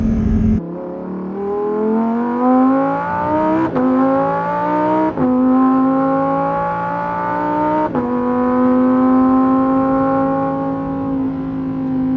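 A high-revving naturally aspirated V10 engine of a Lamborghini Huracán Performante on a track screams up through the gears, pitch climbing then dropping at each shift, loud and close with a sharp, wailing tone.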